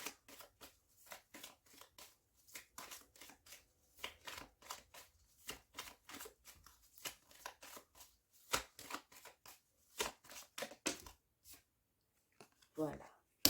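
Tarot cards are shuffled and laid out during a reading, giving a rapid run of close, crisp card riffles and slaps, with a person talking over them throughout.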